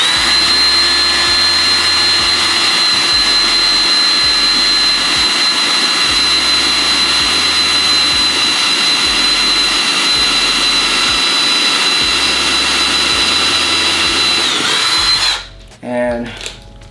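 A Ryobi entry-level cordless drill runs steadily at low speed 1 for about fifteen seconds, a loud continuous whine with a pulsing low hum, then cuts off abruptly near the end.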